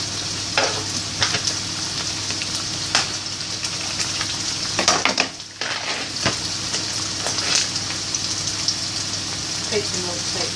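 Smoked bacon fries in a generous amount of oil with a loud, continuous close-up sizzle and crackle, broken by occasional utensil clatter and a brief dip midway.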